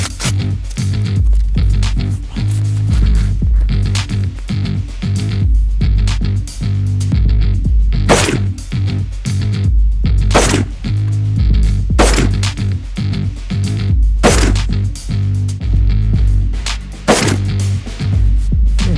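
About five sharp, loud 7.62 caliber rifle shots are fired one after another into a wooden log outdoors, spaced a few seconds apart over heavy low rumble and wind noise.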